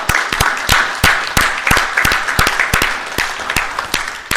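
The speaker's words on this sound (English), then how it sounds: "We'd like to thank Richard McDonald one more time for one more round of applause" An audience at an evening public forum gives a round of applause. Claps are loud and close, scattered and uneven across a few seconds, with no voices over them.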